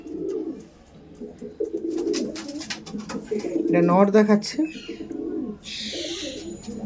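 Kalanka pigeons coo in a loft, low murmuring calls rising and falling through the clip while someone talks over them nearby.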